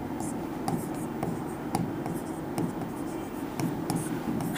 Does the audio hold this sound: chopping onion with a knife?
no